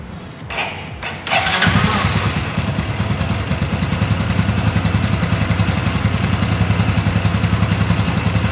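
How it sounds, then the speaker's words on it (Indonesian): A four-stroke motorcycle engine, freshly checked for valve clearance and compression, cranks briefly, then fires and settles into a loud, steady, rhythmic idle that runs close and alone to the end. "Maka kondisi dari motor ini kita akan starter."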